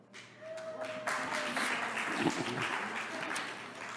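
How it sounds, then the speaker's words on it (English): Audience applause at a live speaking event, building to a steady wash of clapping with a brief tonal sound near the start and scattered voices mixed in. "Yeah, clap for yourself."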